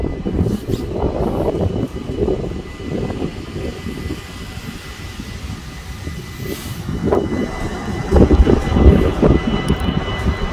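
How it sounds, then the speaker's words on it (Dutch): A metro train pulls into the station at Hoek van Holland on the line to the beach, a loud rumbling roar of wheels and motors that swells and surges near the end. "Daar komt hij aan hoor, metro naar het strand."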